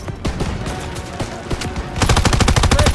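Rapid automatic gunfire and bursts of shots in Call of Duty WWII during a wartime firefight at a stronghold, dense and loud throughout, intensifying into a fast rattling machine-gun stream near the end.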